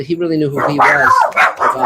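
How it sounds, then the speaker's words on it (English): Dogs bark and yip indoors, close and loud, overlapping a voice as he talks during a livestream. "Sorry about the dogs"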